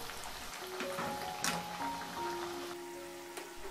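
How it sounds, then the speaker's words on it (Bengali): Khaja pastries made from maida dough deep-fry in hot oil over medium heat, a soft, even bubbling crackle close by with a few sharper spits, no voices. "মিডিয়াম আঁচে খাজাগুলো ভেজে নিতে হবে"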